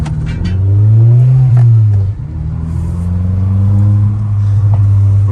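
A SEAT Ibiza engine revs loudly from inside the moving car, climbing in pitch, dropping with a gear change, then settling into a steady, droning pull, close and with no talking.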